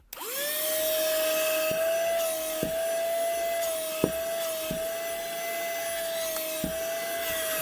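Baseus cordless battery-powered car vacuum cleaner running inside a car: a steady high motor whine with a hissing airflow, plus occasional knocks and clicks as the nozzle bumps the interior.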